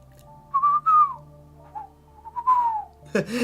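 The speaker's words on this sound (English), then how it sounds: "So if I try and whistle, no." A person attempts to whistle into a microphone, making a few short wavering tones with breathy gaps between them, near and fairly soft, and ends abruptly in a burst of noise.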